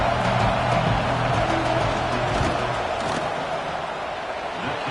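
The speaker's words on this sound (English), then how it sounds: "This crowd trying to do its part to get inside the kicker's head." A football stadium crowd roars before a field goal kick. The noise is steady and dense, a broad wash of distant cheering and shouting with no pauses across the few seconds.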